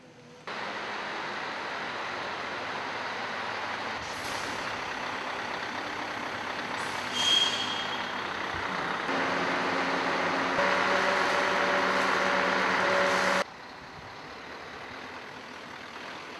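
Truck engine running steadily, likely idling or pumping while a truck collects emulsified waste for delivery to a biogas facility in Kristianstad, Sweden; a constant heavy drone with a brief hiss partway through and a shift in pitch near the end.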